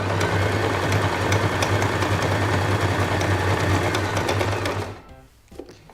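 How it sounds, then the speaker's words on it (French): Janome Milady 41 sewing machine stitching through six layers of thick denim, a steady loud mechanical whirr with rapid needle clatter that runs for several seconds, then stops abruptly with a short reverse stitch at the end. "J'ai donc pu coudre dans un tissu très épais, sur 6 épaisseurs de jean, et aussi réaliser une petite marche arrière à la fin"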